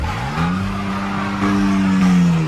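A car accelerates away in a movie escape scene, its engine note climbing steadily with a tire squeal over a loud, close, continuous roar.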